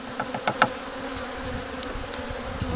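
Late-winter honeybees in a hive give off a faint, steady insect buzz over the whole stretch, with a few louder brief buzzes near the start as single bees pass close by.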